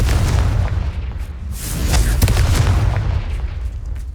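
A Confringo fire spell exploding in Hogwarts Legacy, heavy rumbling booms and bursts rolling one after another, loud and close, with a brighter crackling blast in the middle.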